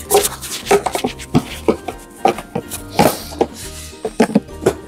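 An airtight plastic bucket lid, reused and sealed over a ferment of red jalapeno mash, is pried open with a run of sharp snaps, creaks and knocks, close up.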